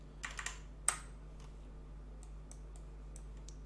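Keys on a computer keyboard pressed to tab between windows and trigger shortcuts: a short cluster of clicks, one sharper tap, then several faint, spaced key presses over a steady low hum.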